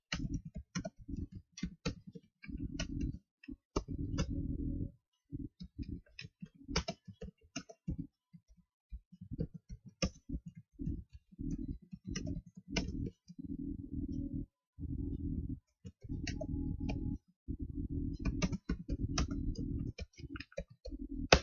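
Keys clatter on a computer keyboard during a typing test, fast bursts of clicks broken by short gaps, close and fairly quiet with no other sound.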